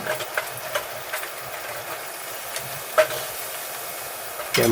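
Food sizzles steadily while frying in a pan at a large communal kitchen during a fiesta meal, with a few sharp scrapes and clanks of a utensil stirring it, the last near the end louder and close.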